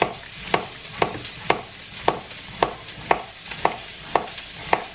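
Onions browning in a pan on an induction hob, with a steady low sizzle broken by regular sharp scraping strokes of a utensil, close and clear, about nine in five seconds, with no voices.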